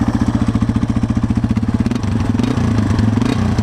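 Yamaha TW200 dual sport motorcycle with a small aftermarket exhaust pipe, loud and close: a rapid pulsing single-cylinder thump that rises as the engine is revved, then holds a rougher, busier note.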